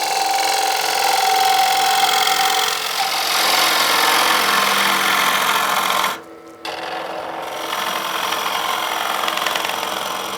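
A wood lathe spins a wet bowl blank while a gouge cuts on the bevel, giving a loud continuous rasping, scraping hiss over the motor's hum, which breaks off briefly and then resumes.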